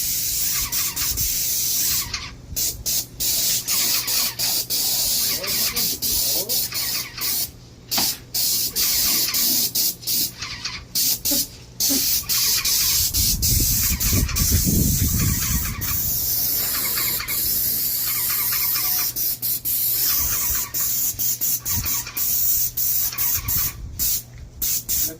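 A paint sprayer hisses steadily and loudly for a long stretch while repainting the exterior of a 125-year-old historic Texas home, broken by brief pauses and a few faint squeaks, close by.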